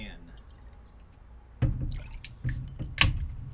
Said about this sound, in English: Let's rinse these out.